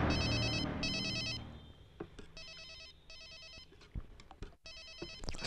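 A telephone rings in repeated bursts of bright electronic trilling, loud and close at first, then continuing more faintly with clicks and small background noises between the rings.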